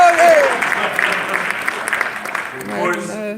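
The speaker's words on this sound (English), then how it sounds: "Y'all can clap for him." Audience applause at a district council inauguration, a moderate burst of clapping that fades as a voice speaks over it near the end.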